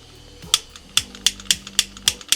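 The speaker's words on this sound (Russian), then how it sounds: "Разжигаем огонь." A gas canister burner clicks repeatedly as its igniter is worked to light a cooking fire outdoors, a series of about eight sharp, evenly spaced snaps close to the microphone.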